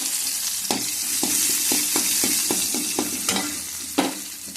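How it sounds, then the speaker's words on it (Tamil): Mustard seeds and crushed garlic frying in a little oil in a kadai, a steady close sizzle with a series of sharp crackles and pops from the seeds spaced through it. "கடுகு போட்டுக்கிறேன். தட்டி வச்சுருக்க பூண்டையும் போட்டுக்கலாம்."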